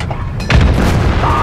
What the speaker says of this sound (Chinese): 火炮啊，火炮来一发